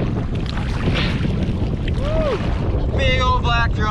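Steady wind rushes and buffets a fishing boat out on the ocean, a loud broadband roar with microphone noise throughout, joined near the end by a few brief high chirps.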